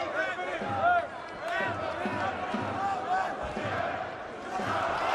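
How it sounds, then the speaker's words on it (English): Crowd in a boxing arena during a heavyweight bout, a dense steady roar of many voices that swells and holds throughout, with a commentator's voice running over it. "Big noise every time the home fighter lands,"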